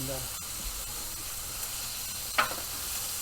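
A steady, soft hiss of steam and sizzling from broccoli in a covered pan, continuous throughout, with one brief sharper crackle near the end.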